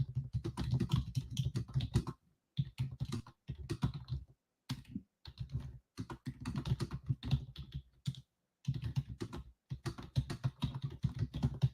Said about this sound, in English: I'm going to be typing in our group right now.